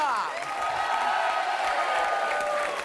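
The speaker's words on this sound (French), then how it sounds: "Et on peut les applaudir fort, les Quatuor." A TV game-show studio audience applauds a flamenco quartet, giving dense, steady clapping with some crowd noise that holds throughout at moderate volume.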